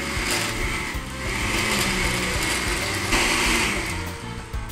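A blender whirs steadily, blending mango with flavored yogurt, a continuous close motor drone with slight shifts in pitch as the mixture churns.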